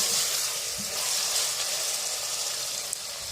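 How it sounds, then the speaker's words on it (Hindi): Ginger garlic paste frying in a pan, a steady close hiss and sizzle that runs unbroken throughout, with faint stirring clinks underneath. "और इसके साथ मैं इसको 3 से 3 मिनट के लिए जो है मैं इसको फ्राई करूँगी"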